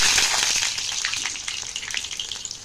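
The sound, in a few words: eggplant frying in hot mustard oil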